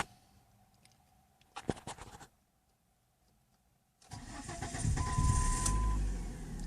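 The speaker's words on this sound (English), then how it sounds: "Ooh, little sputter there. But it did start a lot better. It started right up, fired right up." A 2002 car engine cranks briefly with a rattling burst, pauses, then fires up and settles into a close, steady idle after a slight sputter, with no talking.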